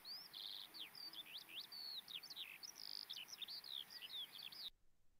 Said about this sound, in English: if a skylark is about to sing, you might just hear that little chirp, and then it will go straight into